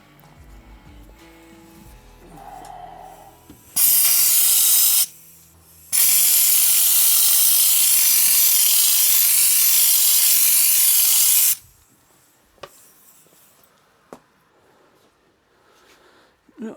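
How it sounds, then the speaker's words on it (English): A compressor-driven spray gun hisses loudly in two bursts, a brief one and then a long steady test spray under a car's wing lasting several seconds, with quieter shop noise around them. "I'll do a test spray under the wing"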